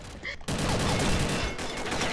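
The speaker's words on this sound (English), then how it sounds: "I'm shooting you!" Video game gunfire, a dense rattling burst of rapid shots that begins abruptly after a brief quieter moment and runs steadily to the end, fairly loud and close.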